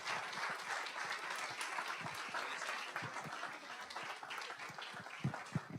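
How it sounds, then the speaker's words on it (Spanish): A church congregation applauds its pastors during a Spanish-language service, with steady, dense clapping that fills the room and a few louder claps standing out near the end. "un aplauso fuerte para los pastores"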